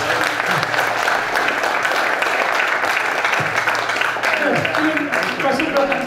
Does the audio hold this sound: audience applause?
yes